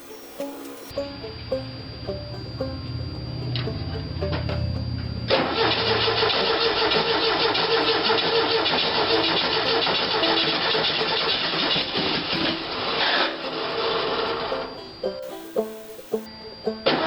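A car with a blown ignition coil cranks, catches and runs, first a labored starter churn, then a loud, uneven engine roar held for about ten seconds before it dies back down, heard up close.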